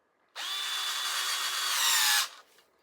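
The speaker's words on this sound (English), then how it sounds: "I wonder if we could kind of drill this into place." A power drill spins an arrow insert into an arrow shaft in one steady whine of about two seconds, close and alone, ending abruptly with a brief tail as it spins down.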